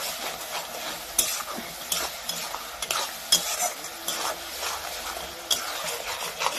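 Chicken curry masala fries in a pan with a moderate crackling sizzle, repeatedly broken by scraping stirs and sharp spatula knocks against the metal.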